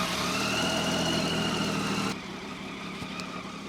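A motorcycle engine starts and idles with a loud, steady rumble close by, then the level drops to a quieter, even idle hum about two seconds in.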